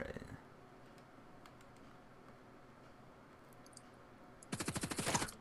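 ACR rifle fire in the Contract Wars shooter game, a single rapid automatic burst of about a dozen shots near the end after a quiet stretch with faint clicks.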